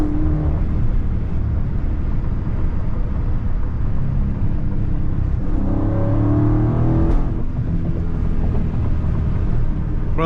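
A 500hp Last Call widebody Scat Pack in track mode gives a loud, deep engine rumble heard close up, swelling into a rising rev about two-thirds through before settling back to a heavy drone.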